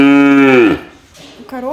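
Cows at an agricultural academy moo loudly and close, one long rich low call that fades, followed by the start of another.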